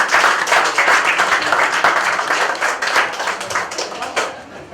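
Loud, dense applause from a crowd, continuous clapping that holds strong before easing slightly at the end.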